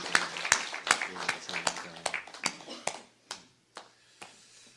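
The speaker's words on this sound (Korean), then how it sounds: "우리 하나님께 영광의 박수 올려 드리겠습니다." A congregation claps at a Korean Sunday church service, a dozen or so crisp, loud hand claps in an uneven rhythm that spread apart and fade toward the end, with a brief spoken word among them.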